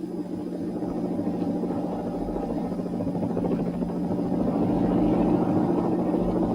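A helicopter flying over high-voltage cables in the 1963 big freeze, a steady rotor and engine drone with a low thudding beat that grows slightly louder over several seconds, with no talking.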